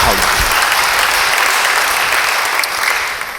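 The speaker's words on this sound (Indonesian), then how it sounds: "Beri tepuk tangan bagi dia." A church congregation breaks into loud, dense applause that carries on steadily and then begins to thin out toward the end.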